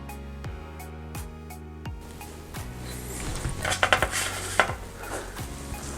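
Cream cheese icing for cinnamon rolls being mixed in a bowl, with a utensil clinking and scraping against the dish in irregular, moderately close strokes that grow busier toward the end.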